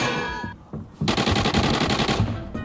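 Rapid automatic gunfire from a weapon in the shooter game Arena Breakout rattles out loud and close in a sustained burst of fast repeated shots, preceded by a few short sounds and a brief pause.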